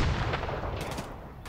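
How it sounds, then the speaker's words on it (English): Explosions and gunfire in the shooter game Tarkov Arena, heavy booming blasts with crackling shots rumbling together, fairly faint and distant, with no talking. "Explosions!"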